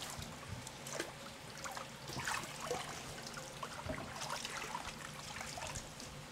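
Water trickles and splashes steadily as mixed salad leaves are washed in a basket, a continuous close wet patter with small sloshes throughout.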